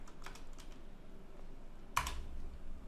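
A few soft, scattered keystrokes on a computer keyboard while renaming a layer in Photoshop, then a single sharper click near the end.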